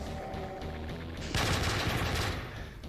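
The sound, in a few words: gunshots from a Doom weapons mod video game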